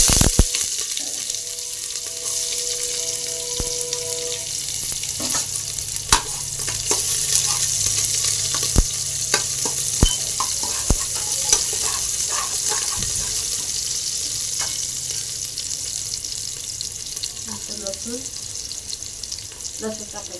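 Garlic sizzling and frying in hot oil in a pan, a steady bright hiss that holds for the whole stretch, with occasional utensil knocks and clinks over it.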